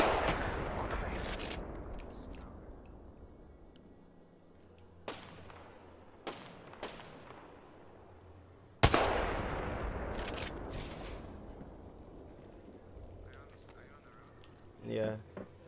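Gunfire in Apex Legends, sharp shots cracking out at a few moments amid steady game noise and a continuous background hum, with a louder burst near the middle of the stretch.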